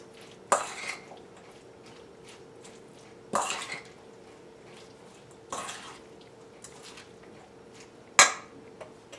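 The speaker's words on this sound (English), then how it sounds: "Just give everything a good mix." Bruschetta ingredients being mixed in a bowl, a few scattered clinks and scraping knocks of a utensil against the bowl with quiet pauses between.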